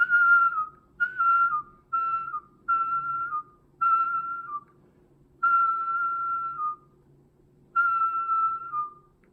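Cheek-warbling mouth whistling, which sounds like a recorder, comes in a run of short, clear whistled notes with brief gaps between them and a couple of longer held tones, close and alone.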